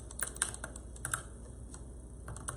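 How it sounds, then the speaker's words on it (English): A ratchet handle on a felt-wreath tool clicks in short, light, irregular ticks, close and fairly quiet, with no talk. "And the clicking noise is just the ratchet handle."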